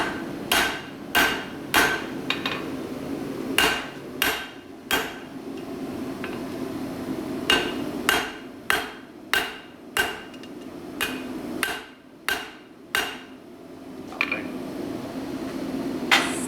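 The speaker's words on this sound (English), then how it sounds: "I might bump up my hammer weight for the next section." Sharp, loud hammer strikes land one after another in uneven bursts, separated by short pauses over a low background hum.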